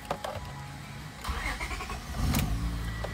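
A Honda Odyssey minivan engine cranks and catches, with a few clicks and whirs before the starter, then the motor fires and settles into a rising rumble, close and clear.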